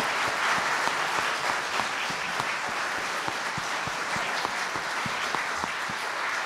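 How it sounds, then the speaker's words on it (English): An evening audience gives a panel of scholars a round of applause, a continuous wash of many hands clapping at an even level throughout, with scattered louder individual claps standing out. "Let's give them a round of applause."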